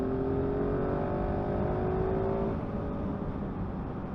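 A 2022 GasGas 700 Enduro motorcycle engine drones at high revs close by, holding a steady pitch before easing off partway through.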